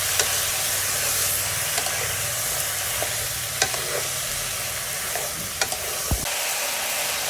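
Onion, chicken and pork fry together in a pan while being stirred, giving a steady loud sizzle and hiss with scattered scraping clicks of the utensil, ending in a sharp clack.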